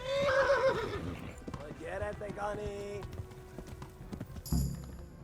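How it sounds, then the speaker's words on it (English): Horse in the video game Kingdom Come: Deliverance whinnying shrilly at the start, followed by clopping hooves and other game sounds, with a voice talking over parts. "Oh no, the horsey's getting upset."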